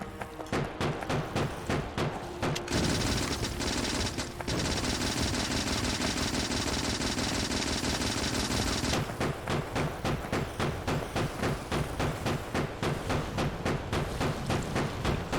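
Rapid automatic gunfire in the video game Factorio with shooting upgrades, long bursts of fast machine-gun rattle, some of it dense and sustained, running almost continuously and fairly quiet overall.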